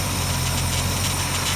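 Carbureted engine idling at around 800 RPM on its first start of the season: a loud, close, steady low rumble with even vibration, continuous throughout and without speech.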